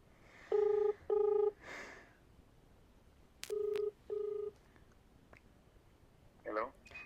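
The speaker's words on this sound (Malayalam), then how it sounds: "എന്തായാലും നമുക്ക് ഇപ്പോൾ ഒന്ന് വിളിച്ച് നോക്കാം" A phone call rings out on the line: two pairs of buzzy ringback tones, each pair made of two quick bursts and separated by a few seconds of near quiet, heard close through the handset, followed by a brief rustle.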